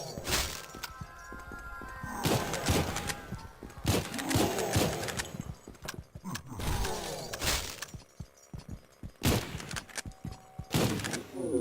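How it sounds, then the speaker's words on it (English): A grenade goes off during combat in the video game Cultic Chapter Two. Several loud, sharp blasts and crashes come in irregular bursts, mixed with gunfire and shattering debris. "That's a grenade."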